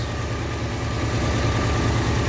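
A 1959 Ford Fairlane 500 engine with a loose timing chain idles smoothly, a low, steady rumble with an even throb, close and continuous with no voices.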